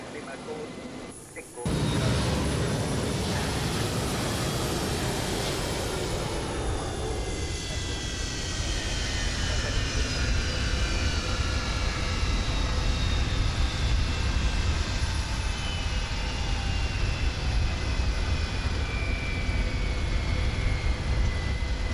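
A Boeing 727-200F freighter jet in Microsoft Flight Simulator 2020 diving toward the runway, with a steady loud engine roar and whining tones rising in after a short quiet start, continuing throughout, with talk underneath.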